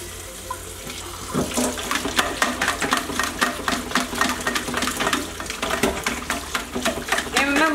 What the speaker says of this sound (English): we're just gonna rinse out our berries in the vinegar and water